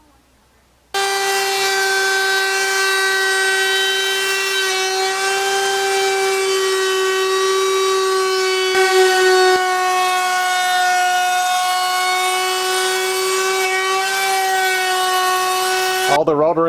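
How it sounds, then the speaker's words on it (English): A router running steadily on the edges of wooden cubbie coat cabinets in a workshop, a loud sustained high whine that starts abruptly after a moment of quiet and holds almost unchanged before cutting off. "I have to do the routering around the edges of these cubbies."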